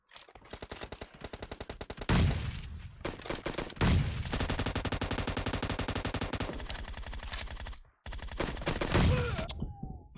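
Automatic gunfire from a video game hangar match, with magazines being emptied in long, rapid, loud bursts that are broken by a few short gaps.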